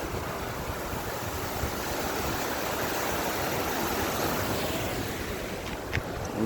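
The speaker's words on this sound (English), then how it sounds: "here's some more of the river here" A river near Duluth on the Lake Superior shore, a steady broad rush of flowing water with some wind buffeting the microphone, continuous and fairly close, with no talk.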